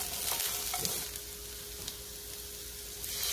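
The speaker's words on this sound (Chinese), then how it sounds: "兜炒一分半钟到啦。" Shiitake mushrooms stir-fried with ginger slices and red dates in a wok, a steady close sizzle with scraping stir strokes, no talk.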